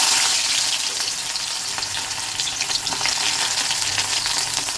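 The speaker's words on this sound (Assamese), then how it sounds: "তেলখিনি গৰম হোৱাত এতিয়া মই দিলোঁ পিঁয়াজখিনি" Onions fry in hot oil in a wok with a loud, dense, continuous hiss and crackle, close up and steady throughout, with no voices.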